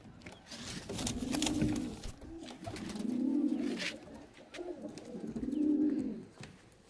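High-flying Andhra and Malboy pigeons coo in a loft in three slow, rolling phrases, each swelling and fading, close by, with faint rustling and light chirps in the background.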